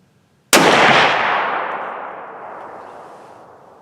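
A rifle fires a single slug round close by, one sharp loud blast that rings out and decays slowly over several seconds, alone with no voices.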